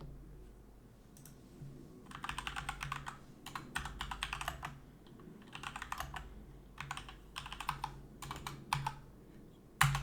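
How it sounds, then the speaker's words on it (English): Someone types a command on a computer keyboard in quick bursts of light clicking keystrokes separated by short pauses, close up and fairly quiet, with no talking. "we're just going to type Streamlit run and then app.py"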